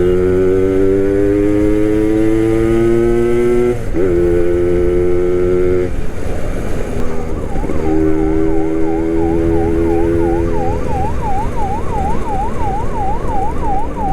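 A Suzuki Max 100 motorcycle engine on a short ride, loud and close, its whine climbing in pitch through several gear changes before settling into a wavering drone.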